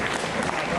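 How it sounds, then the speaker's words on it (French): Dense, loud audience applause at a cosplay masquerade, steady crowd clapping that fills the whole short moment with no letup. "On applaudit."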